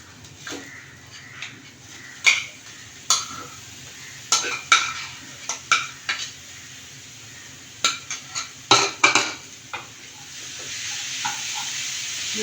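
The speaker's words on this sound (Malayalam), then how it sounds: "ബീട്രൂട്ട് ഇട്ട് നന്നായി മിക്സാക്കിയതിന് ശേഷം അടച്ചു വയ്ക്കുക" A spoon stirs beetroot in a pan for thoran, scraping and clacking in irregular bursts over a soft, steady sizzle of cooking. It is close by, with no talking.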